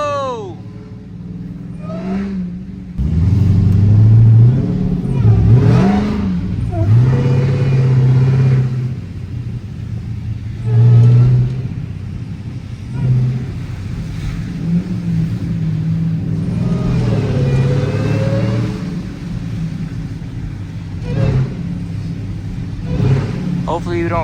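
Engine of a Dodge Charger Demon revving loudly as it does burnouts in deep snow, a steady rumbling roar with surges of acceleration, close up, while people shout and talk over it.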